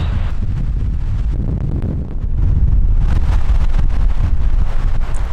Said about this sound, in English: The wind is just brutal.